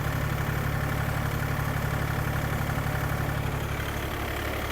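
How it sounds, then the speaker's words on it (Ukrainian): The rotary tiller of an Iseki TU-217 Japanese mini tractor drones loudly and steadily in third gear with a constant low rumble, close by and uninterrupted. "Ось так працює фреза."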